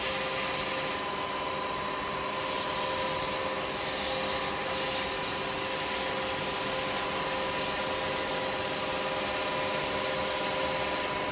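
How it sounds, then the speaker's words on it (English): Steady sanding of a wooden cheese knife handle spinning on a woodturning lathe, a continuous close abrasive hiss over the lathe's constant motor hum, unbroken throughout. "So I'm going to have to sand it to death"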